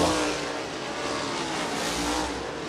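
A sprint car on a dirt oval comes up to speed during a hot lap session, with a steady, broad engine roar that swells slightly and stays continuous at moderate loudness.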